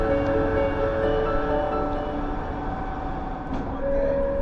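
A train rumbles steadily along the tracks, with a continuous low roar and sustained tonal hum, fairly loud and close throughout.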